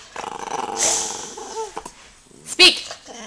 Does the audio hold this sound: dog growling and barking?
yes